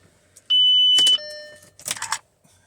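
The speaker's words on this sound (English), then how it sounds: "The steering lock is moving." A steering lock motor on a 2007 Audi Q7 whirring briefly as it moves, alongside a steady electronic tone and a couple of short mechanical clicks inside the car.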